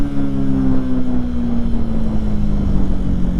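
A Benelli TNT 135 mini bike engine drones steadily while riding, a continuous loud low hum with a slowly falling tone and no talk over it.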